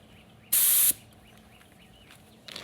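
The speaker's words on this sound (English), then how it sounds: "usually I'll test my spray pattern on my shop door" A short, loud hissing burst of a paint spray gun tested against a shop door, lasting under half a second, against quiet background with faint chirps.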